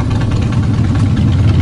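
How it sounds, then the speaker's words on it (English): Motorcycles pass close by with their engines running, giving a loud, steady, rumbling drone that fills the short moment with no speech. "Motorcycles."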